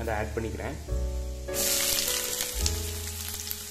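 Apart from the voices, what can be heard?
onion frying in oil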